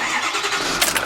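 Engine of a 2009 Ford F-550 bucket truck with an Altec AT37G boom cranking and catching, a brief burst of starter whir rising into a running engine, close and fairly loud.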